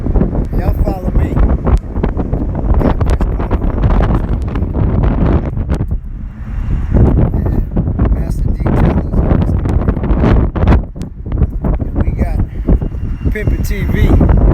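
Strong wind buffets the microphone outdoors near a trailer, heavy rumbling gusts that come and go for about fifteen seconds, with someone talking over parts of it.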